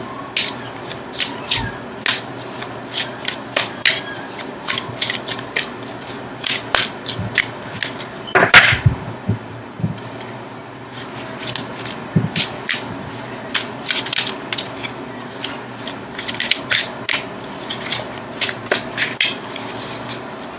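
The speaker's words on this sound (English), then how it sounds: "Okay, so now I'm going to shuffle for an outcome card." Tarot cards being shuffled by hand, a long run of crisp, rapid riffling snaps and flicks repeating in quick bursts with one heavier shuffle near the middle, close and clear with no talking.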